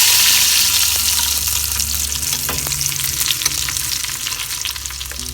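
Hot sesame oil poured into raw tomato chutney hisses and crackles loudly right away, then settles into a steady sizzle that slowly fades, close up with no voices.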